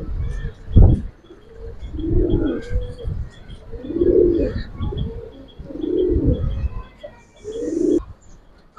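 Giribaz pigeons coo close by in a pigeon market, giving about five soft, throaty, rolling calls at a steady, repeating rhythm, with little else around them.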